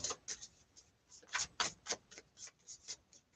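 Rapid, irregular papery flicks and riffles of tarot cards being shuffled close by, repeating in quick bursts without speech.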